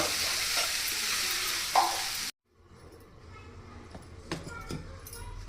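Uggani made from puffed rice is stirred and mixed with roasted gram powder in a pan: a bright frying hiss for a couple of seconds cuts off abruptly, followed by quieter scraping and a few soft clicks.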